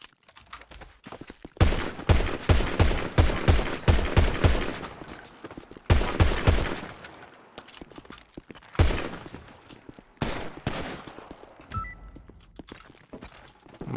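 Gunfire from practice shooting in the video game GTA Five, with loud bursts of rapid shots in clusters, then pauses, then more single and grouped shots, close and sharp, with faint footstep-like taps between volleys.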